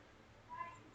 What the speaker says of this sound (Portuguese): E que os gatinhos tá rumiando aí também.